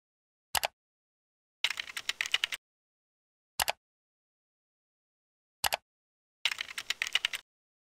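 Short bursts of typing on a computer keyboard while filling in Microsoft account sign-up fields on Windows 10, with single keystrokes and rapid clusters of clicks separated by silence, close and fairly quiet.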